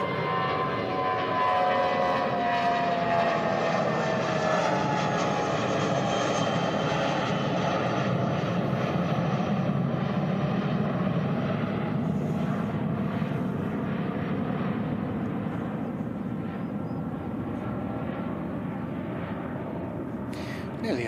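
A Jetstar airliner climbs steeply away from Christchurch Airport, its loud jet engine roar filling the air and slowly fading as the aircraft recedes into the distance.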